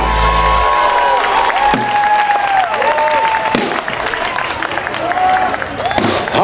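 Crowd cheering, whooping and applauding at a grand opening celebration, loud and close, with shouts and whistles rising over steady clapping throughout.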